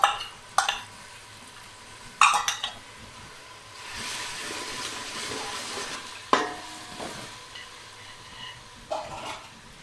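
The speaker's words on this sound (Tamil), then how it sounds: "இப்போது ஒரு கையளவு புதினா, 1 கை மல்லி இலை சேர்த்து வதக்கிடலாம்." Mint and coriander leaves sautéed with ginger and garlic in a pan for Chettinad chicken biryani, a steady soft sizzle broken by several sharp scrapes and stirring knocks of a utensil against the pan.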